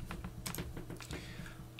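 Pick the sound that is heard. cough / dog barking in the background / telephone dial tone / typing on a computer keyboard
typing on a computer keyboard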